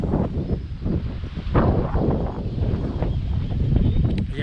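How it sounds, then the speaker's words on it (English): Outdoors in Texas near flowering pear trees, gusty wind roars and buffets against the microphone, rising and falling steadily in a close, full rumble. "very windy today"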